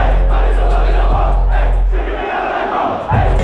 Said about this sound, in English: we're out here in the fucking crowd